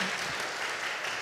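Applause at a church fellowship meeting, a steady wash of clapping from a crowd held at an even level throughout the short stretch, with no voices over it.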